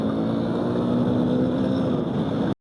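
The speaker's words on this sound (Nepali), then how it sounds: "कस्तो डेन्जर कुद्ने रहेछ है बाइक त यार।" A motorcycle engine drones steadily and loudly while being ridden along a rough village road in Nepal, a sustained close hum that holds an even pitch before cutting off abruptly at the end.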